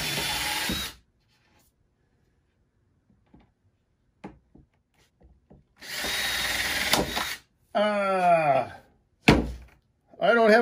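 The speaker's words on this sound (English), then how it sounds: "So now I can go ahead and pre-drill these so I know exactly where they're going to go." A power drill pre-drills screw holes in a computer desk, two sustained whirring bursts with quiet gaps, small knocks and a rising-pitch spin-up between them, close by.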